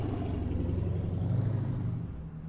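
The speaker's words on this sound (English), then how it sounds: "Loud car." A loud car passes close by on a residential street in Kingwood, Texas, its engine rumble steady and heavy before easing off near the end.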